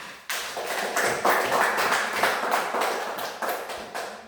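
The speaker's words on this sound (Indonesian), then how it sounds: "tepuk tangan dulu." A classroom of students claps together, a loud, sustained wash of many hands with a loose rhythmic pulse running steadily from start to finish.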